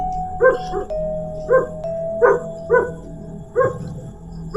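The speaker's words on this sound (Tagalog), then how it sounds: "Ang ingay ng aso." A dog barks repeatedly at a steady pace at night, about six sharp barks, fairly close, with a faint steady tone lingering in the background.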